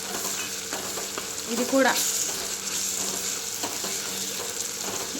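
Chukkakura paste ingredients sizzle and get stirred in a hot pan, a steady frying hiss with scraping strokes, while a voice briefly speaks over it.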